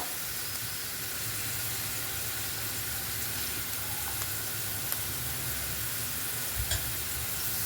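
Sliced onions in a hot pan are stirred and scraped out into another vessel on a gas stove, giving a steady soft sizzle and hiss with faint scraping clicks, heard alone.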